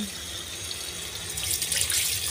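Water runs from a tap into a large, deep kitchen sink, a steady close splashing rush that swells slightly toward the end, with no talking.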